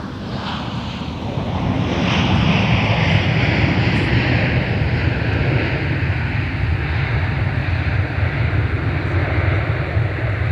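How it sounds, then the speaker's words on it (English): A Delta airliner arriving from Las Vegas at Minneapolis–St. Paul airport gives a loud, continuous jet roar, broadband and steady across the whole span, mixed with some wind noise and no speech. "Now arriving from Las Vegas, Delta Flight 1560."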